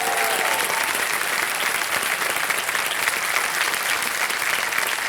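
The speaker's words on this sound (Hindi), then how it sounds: "एक बार तालियां बज जाएं इनके लिए।" KBC quiz show studio audience breaks into steady, loud applause, a continuous wash of clapping that holds evenly for five seconds without any talk over it.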